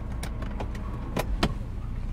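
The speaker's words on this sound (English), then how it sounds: "Windows up." Power windows in a 2001 Honda S2000 glide closed with a faint motor whine under a low cabin rumble, a few soft clicks and thumps punctuating the short stretch.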